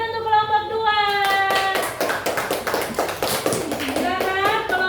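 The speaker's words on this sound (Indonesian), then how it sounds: "beri tepuk tangan untuk kelompok 2" Schoolchildren in a classroom clap for a class group, a burst of quick, uneven hand claps at close range, mixed with children's voices and sung or called-out tones before and after.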